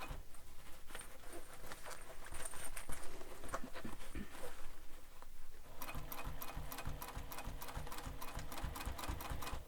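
A sewing machine stitches a sling pack, first a dense muffled whirring, then a faster run of crisp, evenly spaced needle strikes, rapid and close, with no talk.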